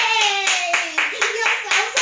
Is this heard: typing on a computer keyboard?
no